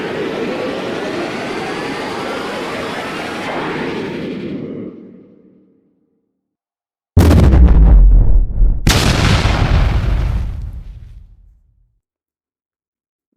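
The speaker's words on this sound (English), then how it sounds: "Sodu, in a quick motion, fired his plasma cannon into a vulnerable opening." A fighting robot's plasma cannon fires in a stadium battle: a long roaring blast that fades out, then after a pause two heavy booming discharges in quick succession with a rumbling tail that dies away.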